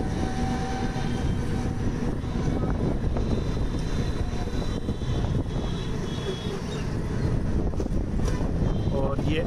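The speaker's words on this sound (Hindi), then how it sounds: "काफ़ी हवा चल रही है आज, सामने से हवा काफ़ी आ रही है" Strong head-on wind buffets a vehicle with no windscreen at the front as it moves along M I Road in Jaipur, a continuous loud rushing roar that barely changes throughout.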